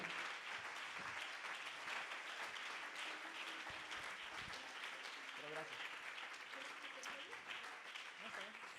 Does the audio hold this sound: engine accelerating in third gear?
no